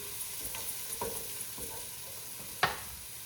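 Caraway seeds toasting in a pot for corned beef, cabbage and potato soup, giving a quiet steady sizzle with a few soft stirring scrapes and one sharper clatter near the end, no talking.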